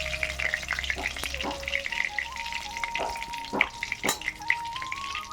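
Steady sizzling of fish frying lightly in a pan, with a few sharp clinks and scrapes of a utensil; no voices.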